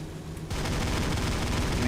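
Ki-84 fighter firing its 30mm cannons in the IL-2 1946 flight game, a dense burst of rapid heavy gunfire starting abruptly after a brief quiet moment and continuing loud to the end.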